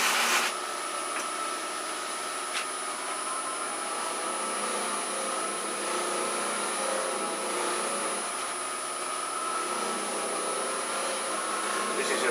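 Chestnut buffing wheel spinning on a woodturning lathe while finishing a waxed piece, a steady airy whir with a constant high whine, running alone without talk.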